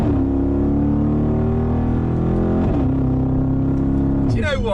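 Mansory Mercedes-AMG G63 exhaust under acceleration, a loud, close, deep droning engine note holding steady, dipping briefly as it shifts, then rising again at the end.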